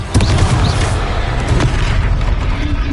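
A Confringo explosion spell in a Harry Potter game bursts with a loud, close boom followed by rumbling debris and smaller pops over a few seconds.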